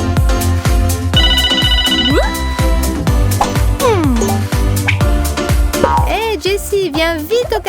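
A cartoon telephone plays a bright melodic ringtone, with tones that loop and warble over a busy music bed, loud and close, and a voice that bends and slides through parts of it.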